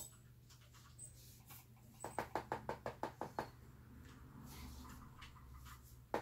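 Someone raps on a big toy surprise egg with about ten quick, evenly spaced knocks, close and crisp over a low background hum, followed by quieter shuffling.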